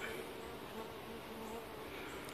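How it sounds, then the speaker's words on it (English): Honeybees buzz steadily around backyard hives, one colony housed in a birdhouse and another a recently caught swarm. The drone is close and continuous, with no voices. "The birdhouse bees are right there."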